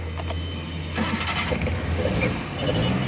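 Suzuki Bolan van converted from CNG to petrol and suffering an engine misfire, its engine cranking and catching, then settling into a close, loud, slightly uneven idle rumble.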